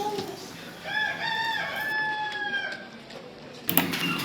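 A Faverolles rooster crows at a French agricultural fair, one drawn-out cock-a-doodle-doo rising and holding over steady crowd hubbub, fairly close, with a sharp clatter near the end.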